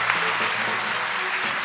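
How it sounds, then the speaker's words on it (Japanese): Steady applause from an award ceremony audience honoring Studio Ghibli's Toshio Suzuki, dense and continuous clapping filling the short stretch without a break. "今一度盛大な拍手をお送りください"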